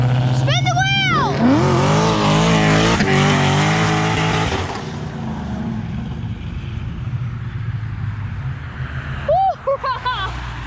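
A car doing a burnout at a Fox Mustang gathering revs hard as its spinning tires squeal in rising, wavering shrieks, loud and close, easing into a rumbling idle before another brief squeal; voices cheer in the crowd.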